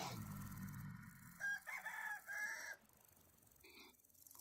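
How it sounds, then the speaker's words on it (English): A rooster crows in the video game Vintage Story, a single drawn-out cock-a-doodle-doo at moderate distance, following a stretch of low ambient rumble and fading into quiet game ambience. "Bit too early, chicken."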